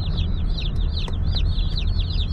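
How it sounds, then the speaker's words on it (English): A box full of broiler chicks peeps continuously, with bright, repeated high chirps overlapping in a busy, close chorus over a low background rumble. "Chirpy chicks. Much chirpier than we are this morning."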